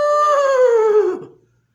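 A voice imitates a donkey braying in a single drawn-out, sliding, descending call lasting just over a second, loud and close, then falling silent.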